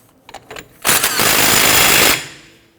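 An impact wrench tightens the axle nut during a front wheel bearing replacement on a Honda Ridgeline, with a few short taps, then one loud continuous buzzing rattle for over a second before it stops, close up.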